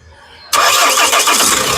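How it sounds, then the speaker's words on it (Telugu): A 2015 Mahindra XUV500 W10 engine cranks and catches abruptly on the first try after a quiet moment, then roars loudly and settles into a steady, close running hum. "సింగిల్ సెల్ఫ్లో కార్ స్టార్ట్ అయితే ఎటువంటి స్టార్టింగ్ ట్రబుల్ అయితే లేదు"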